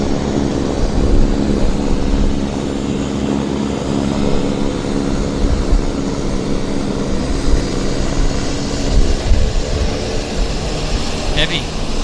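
A WestJet Q400 turboprop airliner at Vancouver Airport gives a loud, sustained propeller and engine drone with a low hum, with talk over it.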